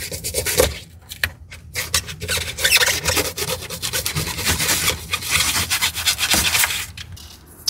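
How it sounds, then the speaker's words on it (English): A dash cap is sanded down by hand, giving rapid, continuous scratchy rubbing strokes close up, with short pauses between bursts and no talking. "Get to a point where we can sand it down"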